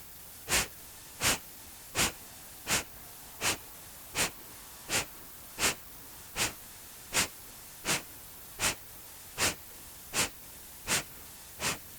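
Kapalabhati yoga breathing: sharp, forceful nasal exhalations repeat at an even pace of about one every second and a half. There are roughly sixteen close, crisp puffs over a quiet background, with no talking.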